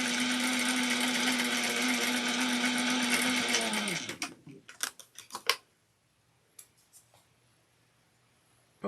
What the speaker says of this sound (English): I just back stitch 2 stitches